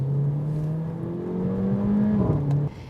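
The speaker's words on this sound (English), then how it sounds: "sports mode also means there's some wonderful burbles, blips and grunts through the exhaust as you go up and down the 7 gears" A Mercedes GLA 45 AMG in sports mode with a seven-speed paddle-shift gearbox drones steadily as revs climb, then a quick gear change brings a brief burble before the engine note settles, heard close and alone.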